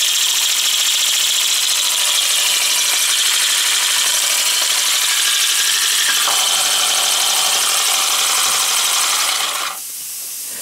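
A small 3D printed air engine runs on compressed air with a printed flywheel, giving a fast, steady hissing chatter close by that cuts off abruptly near the end.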